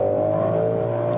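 A 2020 Ford Mustang Shelby GT500 engine pulls hard through its gears, producing a close, loud and steady tonal drone with no pauses across the whole brief stretch.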